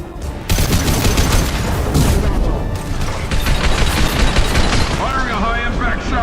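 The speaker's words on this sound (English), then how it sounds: "Firing a high-impact shot!" Rapid gunfire and heavy impact shots ring out in Mass Effect 2 combat, a dense, loud barrage running continuously, with a voice calling out over the shooting.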